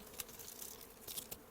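Honeybees drone in an open beehive, a faint, steady buzzing hum with a few brief louder passes of single bees close by.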